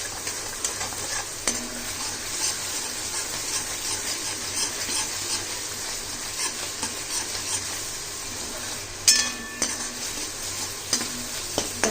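Bottle gourd peel paste sizzles and fries in a pan with steady crackling, punctuated by occasional scrapes and clinks of a stirring spoon against the metal, close and continuous with no talking.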